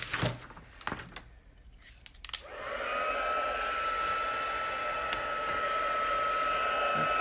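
A heat tool starts up after some paper rustling and handling, then settles into a steady, close whooshing blow with a constant whine, running evenly to the end.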